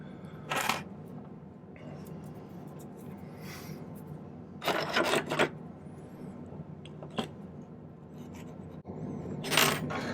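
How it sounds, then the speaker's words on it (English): A metal file works on a silver ring. Rasping strokes come in a few separate bursts over a quiet background of low room hum, near and moderately loud. "I'll need to do a little filing."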